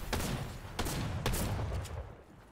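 Combat SMG fire in Fortnite, a few rapid bursts of close, crackling gunshots, some overlapping, heard over a dense, noisy game backdrop.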